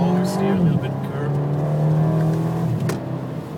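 A race car howls at full throttle in fourth gear on the Nordschleife, its engine note climbing and then dropping with a gear change before holding a loud, steady tone; a voice speaks over it.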